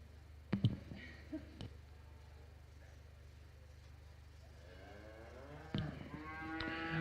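A cow moos at a beef cattle show, heard among cow-calf pairs in the show ring. The low calls are moderately near and come over a steady background hum, with occasional clicks and knocks nearby.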